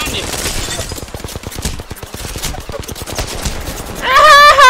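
Rapid bursts of gunfire from a firefight in the video game Apex Legends, dense and continuous, with game effects and voices in the mix and a bright tonal sound near the end.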